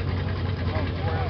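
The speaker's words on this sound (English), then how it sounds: "It does sound like it's a Ford," A Ford car engine, thought to be a 351, idles with a low, steady rumble close by, an even continuous drone with no revving across the short stretch.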